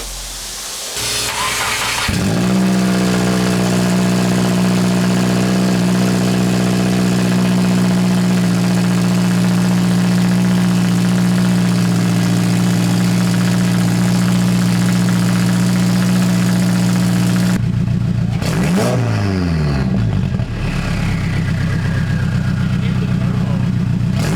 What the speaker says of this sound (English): since the exhaust is off, let's just see how loud this is